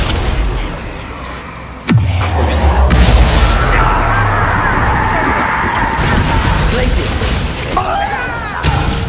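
A Bombarda spell in Hogwarts Legacy detonates with a sudden loud boom and crashing debris, followed by a sustained rumbling roar, with voices talking around the blast.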